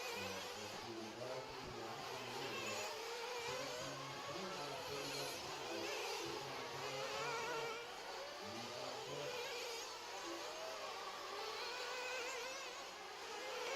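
Nitro RC cars race around a dirt track at Beaumont, California, their small engines buzzing and revving in a steady distant drone that rises and falls as they lap, with no talk.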